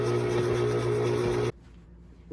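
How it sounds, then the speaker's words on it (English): An electric mixer creams butter and sugar with a steady, dense motor whir for about a second and a half, then cuts off abruptly into near silence. "Now start the mixer and mix until it creams well."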